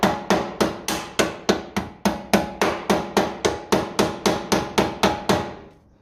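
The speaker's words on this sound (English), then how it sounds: "Give it a tap of the plastic hammer." A plastic hammer taps a reconditioned radiator on a Ferguson FE 35 TVO tractor: about eighteen sharp, evenly spaced knocks over six seconds, close and loud, each ringing briefly, with no talk.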